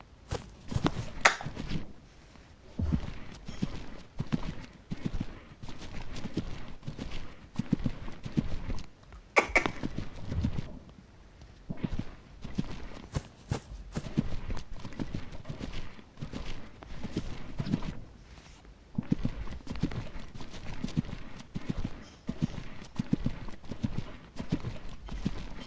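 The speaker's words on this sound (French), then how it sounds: "je vais venir au trot, enfin au pas, sur le vertical et partir au galop devant l'obstacle" A show-jumping horse's hooves on an arena surface as it moves from walk into a canter toward a vertical fence, a long run of rhythmic thuds that are steady and close.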